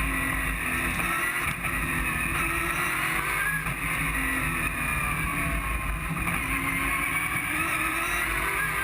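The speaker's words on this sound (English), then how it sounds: "Let's have a listen to the cars through this tight chicane." V8 touring race cars at Sandown blast through a tight chicane, a loud continuous engine roar with rising and falling revs as they brake and accelerate nose to tail.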